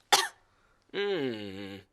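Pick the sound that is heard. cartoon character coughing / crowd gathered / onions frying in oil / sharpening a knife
cartoon character coughing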